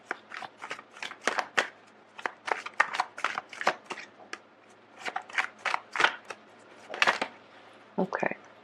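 Tarot cards shuffled and drawn from a deck during a reading, a fast run of crisp papery flicks and riffles close up, with a few soft voice sounds near the end.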